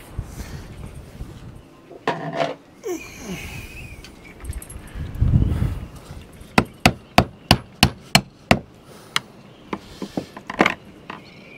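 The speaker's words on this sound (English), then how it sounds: "I'll just have to get a hammer and knock that in." A hammer knocks a mizzen base support into place on a boat. Scattered rustling and handling come first, then a run of about ten sharp, evenly spaced close metallic blows with a few lighter taps after.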